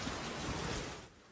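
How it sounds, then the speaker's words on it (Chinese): Heavy rain pours down in Luzhu, Kaohsiung during a tropical-depression downpour, a dense, steady hiss of water filling the air at a moderate level before tapering off abruptly. "大雨稀里哗啦，混着黄土"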